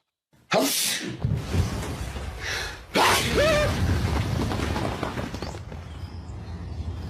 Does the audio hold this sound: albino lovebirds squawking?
no